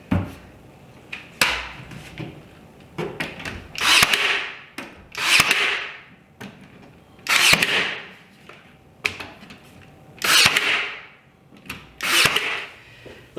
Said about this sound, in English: I'm just going to shoot this in with brad nails.